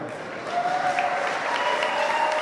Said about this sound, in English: please, round of applause for her